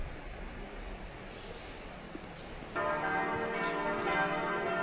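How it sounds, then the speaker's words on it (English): A church bell rings through the Lauterbrunnen valley in Switzerland, a steady, continuous metallic ringing that swells noticeably partway through and carries on without pause, with no talking heard. "Can you hear that? There's a church bell."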